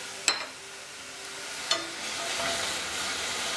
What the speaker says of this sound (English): In a skillet over medium-high heat, I'm gonna add the lemon juice and then 1 minced clove of garlic.